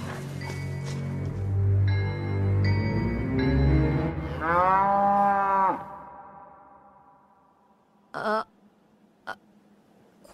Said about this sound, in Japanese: 牛？ 普通の牛みたいだけど。